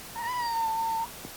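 A single drawn-out meow from a yoga kitty on a mat, steady and fairly close, lasting nearly a second and then stopping, with no talking.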